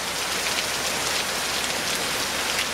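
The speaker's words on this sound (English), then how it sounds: "The rain's coming in here." Dense, steady hiss of heavy high desert rain pouring down, constant and enveloping with no pauses or voices.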